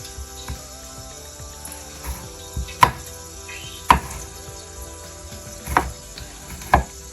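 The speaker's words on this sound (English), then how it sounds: "Tomatoes are roughly chopped." A knife roughly chopping tomatoes for Kabuli palaw thuds onto a board in sparse, uneven strokes, a few with a sharper click. The chopping is close and has faint kitchen hum behind it, with no talking.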